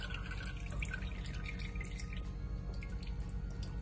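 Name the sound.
excess water draining from washed goat meat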